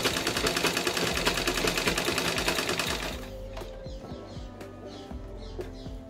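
A sewing machine stitches pajama fabric with a steady, loud, rapid mechanical chatter that softens about halfway through, continuing as a quieter run with faint clicks.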